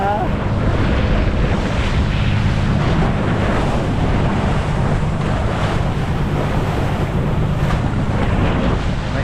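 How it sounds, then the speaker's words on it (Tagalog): Strong, steady wind roars across open sea, battering the microphone with continuous buffeting rumble alongside the wash of waves against a small boat out on the water. "Nagsisimula na malakas na hangin dito."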